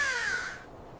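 A single faint crow caw fades out quickly over a quiet outdoor background, with no voices.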